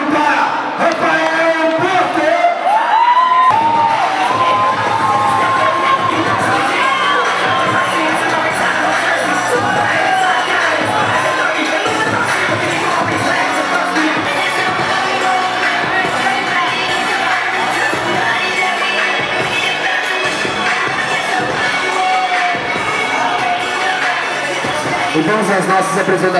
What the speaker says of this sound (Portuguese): faça barulho para Rafael